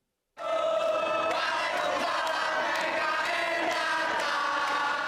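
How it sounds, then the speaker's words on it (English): A large crowd of young voices in Jakarta sings a song supporting Prabowo Subianto together loudly and continuously, a dense chorus with occasional louder shouts rising above it. "A crowd of youth sing a song supporting Prabowo Subianto."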